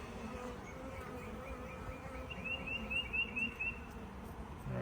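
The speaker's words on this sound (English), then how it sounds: "There's a little bee coming up through the hole right now" Honey bees buzz around a hive entrance during a backyard beekeeping check of hatched queen cells, a steady, close insect drone with a thin, wavering whine rising over it midway.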